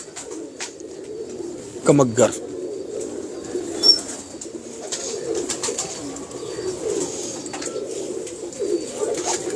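Pigeons, an old loft flock of blue birds, coo softly in the background while someone speaks briefly over them, with a few wing flutters.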